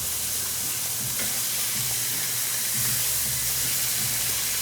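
Steaks sizzle steadily in a frying pan, a constant bright hiss of fat crackling with faint pops and a low undertone, unbroken for the whole stretch with no voices.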